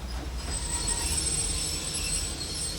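A railway coach's air brake engages with a sustained, loud metallic squeal of wheels on rail, steady high tones running over a deep rumbling roar of the moving train throughout.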